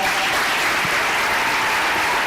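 A short burst of steady, full crowd applause from an audience at a school district's State of the Schools address, loud and unbroken throughout.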